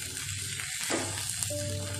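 Four sliced tomatoes fry in a pan for butter chicken, a close, steady sizzle with a brief stir in the middle and no talk.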